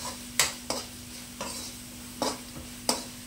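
Spatula scraping through carrots, beans and chillies frying with salt in a pan for upma, five distinct stirring strokes spaced irregularly over a soft background sizzle and a steady hum.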